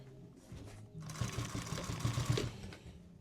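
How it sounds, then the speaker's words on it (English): A small sewing machine starts up and runs in a fast, steady mechanical whir for about two seconds, close by, stitching large pieces of boat upholstery, then slows and stops. "I was pulling these big pieces through this little sewing machine"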